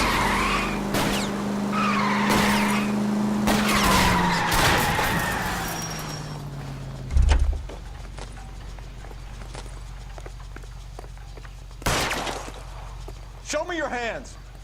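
Car chase in the L.A. Noire video game, with a steady engine drone, tires skidding, a loud impact around the middle and a few sharp bursts later, while game characters talk over much of it.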